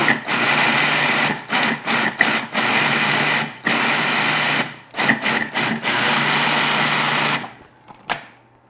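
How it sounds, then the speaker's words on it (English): A food processor runs in a series of loud whirring bursts broken by brief pauses, chopping walnuts into an oatmeal lemon bar crust mixture, then stops and goes quiet near the end. "all I'm going to do is process that just until everything's mixed together and my walnuts and are kind of chopped a little more finely"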